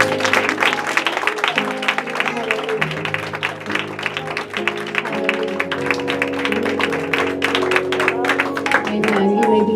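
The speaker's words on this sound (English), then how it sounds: "Come on and give him a hand clap." A church congregation claps and applauds during a worship service, with steady hand claps running through loud organ and keyboard music for the whole stretch.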